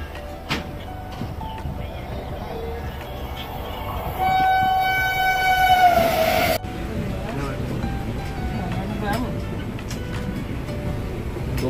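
A long-distance express train, the Thirukkural Express, arrives at a station. There is a rumbling rail background, a sustained horn blast for a couple of seconds midway, and people talking nearby.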